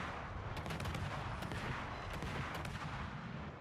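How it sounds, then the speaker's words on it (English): Rapid naval gunfire from the warship Austin in a video game, a dense, continuous barrage of booming shell shots in quick succession, loud and unbroken for several seconds with no talking. "you can just see the devastating volume of shells that this ship can put out"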